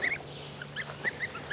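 Young, fast-growing geese on a farm give a few short, honking calls, about five brief squawks scattered over a second and a half, fairly faint against a quiet background.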